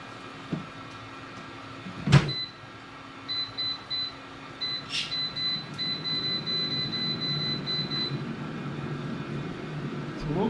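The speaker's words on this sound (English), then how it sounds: "We're going to throw this in the air fryer at 400 for 15 minutes and check it" An air fryer set to 400 degrees with a meatloaf inside: a single thump, then a run of short electronic beeps, followed by the steady, close whirring hum of its fan with no one talking.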